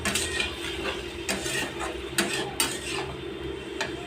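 Ridge gourd and potato pieces being stir-fried in a pan, a spatula scraping and clattering against the metal in quick, uneven strokes over a light sizzle, close and fairly loud.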